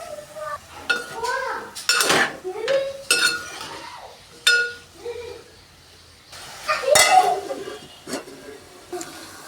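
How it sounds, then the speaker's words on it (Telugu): Onion, tomato and eggplant cooking together in a pan as a metal utensil stirs them, giving repeated close clinks and scrapes against the pan, with a voice sounding intermittently over the clatter. "ఉల్లిపాయ, టమాటా, వంకాయ 3 కలిపి వేగుతాయండి"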